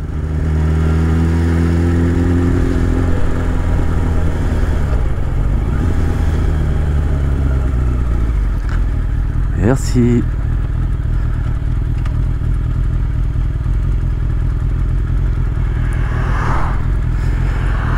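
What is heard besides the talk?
motorcycle riding through a traffic jam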